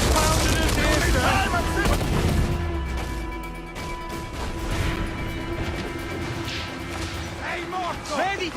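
Ship cannon fire during a naval battle in Assassin's Creed Black Flag, loud booms and crashes layered with shouting crew voices and ongoing battle noise throughout.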